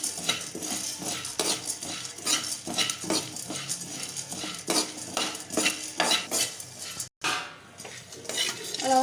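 Roasted gram (pottukadalai) is stirred in a pan with a metal spoon, a steady run of close scraping and clinking strokes with faint sizzling and one brief dropout.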